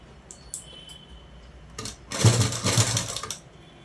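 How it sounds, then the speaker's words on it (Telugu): A sewing machine stitching a blouse runs in a short, loud, rapid burst of mechanical clatter after a few faint clicks and taps. "దీనికి మటుకు సన్న కుట్టు పెట్టేసుకోండి"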